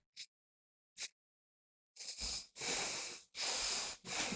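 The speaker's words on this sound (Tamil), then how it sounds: "கண்களை மூடி மெதுவாக மூச்சை உள்ளெடுத்து மெதுவாக மூச்சை வெளியிட ஒரு 3 டைம்ஸ்" Slow, deep breaths during a seated mudra hand-position practice: two short sniffs, then long, loud, airy exhalations and inhalations close to the microphone with no speech.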